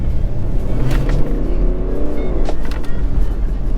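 A BMW 430d Pack M diesel coupe of 265 hp with automatic transmission accelerating, a loud, close engine drone that rises in pitch as it pulls, heard from inside with no talk.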